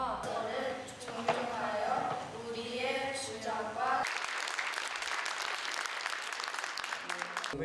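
Applause at a Korean independence commemoration ceremony in Chicago breaks out about halfway through, a full crowd clapping steadily and loudly after a stretch of talk.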